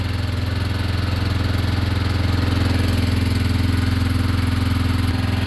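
A John Deere tractor engine running at a steady idle, a loud, even low-pitched throb with a constant rhythmic chug close by, no talk.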